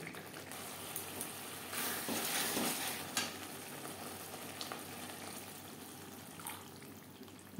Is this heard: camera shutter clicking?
no